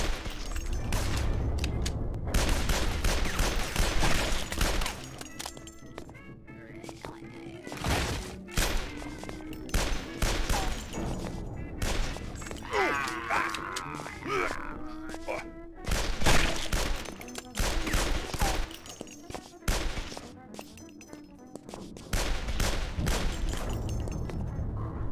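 Dense rapid gunfire from the video game Guns, Gore and Cannoli, with loud overlapping shots, bursts and booms running almost nonstop, a brief gap near the middle and shouted game voices mixed in.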